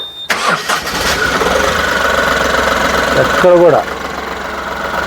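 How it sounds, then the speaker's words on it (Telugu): An Ashok Leyland Dost truck engine cranks on its self-starter, catches within a moment and settles into a steady, loud idle, with someone briefly talking over it near the end. "ఇంజన్ కూడా చూడండి. సెల్ఫ్ కొట్టి చూపిస్తాను."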